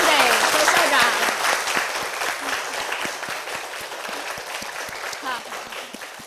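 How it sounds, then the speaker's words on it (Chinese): A seated audience at a televised Hunan talk show applauds the guest, a principal: dense, sustained clapping that starts loud and slowly tapers, with scattered individual claps standing out and a voice briefly audible over it. "让我们把掌声送给周校长"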